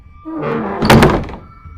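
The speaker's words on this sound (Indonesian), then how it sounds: "pintu ruangan itu kembali tertutup dengan keras" A room door in a hospital corridor slams shut with a single heavy, loud thud and a short resonant ring that quickly fades, heard alone.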